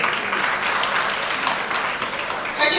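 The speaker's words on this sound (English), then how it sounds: "Please, a round of applause for them." Steady applause from an audience, a dense wash of clapping that holds evenly throughout with no voices over it.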